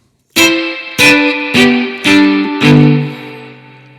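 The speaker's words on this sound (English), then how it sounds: "It's got quite a believable spring reverb" Five bowed notes from an electric violin run through an amp IR pedal with spring reverb, each attack clear and loud, the last note trailing off in a reverberant decay.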